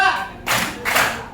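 Two separate hand claps, evenly spaced, in a children's counting and clapping game, each a sharp broadband burst standing alone without talk over it.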